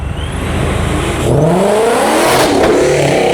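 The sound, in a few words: car engine revving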